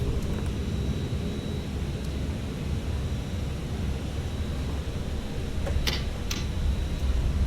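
Airbus A340-600 engines spooling through a config 3 takeoff roll in the ToLiss flight simulator give a steady, loud broadband roar with a deep low rumble, joined by a few faint clicks near the end.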